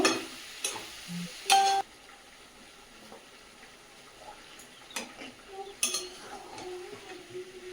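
Chicken cooking with ginger-garlic paste is stir-fried in a pan, with sporadic scrapes and metallic clinks of a utensil over a low sizzle, close up; a couple of sharp louder knocks stand out near the start.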